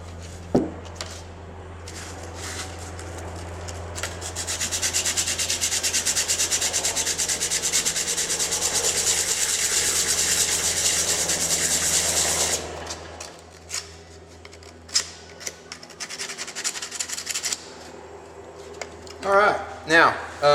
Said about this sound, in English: once you finish with the 180 grit, then we're going to go ahead and move up to the 220 grit